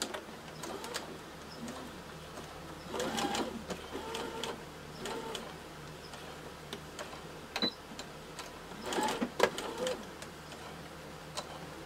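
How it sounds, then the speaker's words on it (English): A sewing machine stitches a quarter-inch seam on quilt fabric pieces, its motor running in short bursts of rapid mechanical clatter with pauses between, moderately close over a quiet room. "feeding them in the machine, and stitching that 1/4 inch seam"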